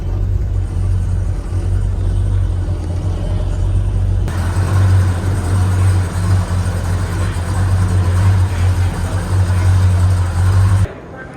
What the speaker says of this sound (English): Driving a Daytona now. I think it's a 440 car.